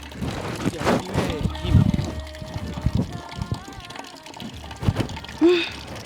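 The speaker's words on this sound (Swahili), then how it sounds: "Naona nikuja kuchota maji hapa." Water being drawn and poured at a waterside in a Swahili drama, heard as irregular splashes and trickles with people talking over them.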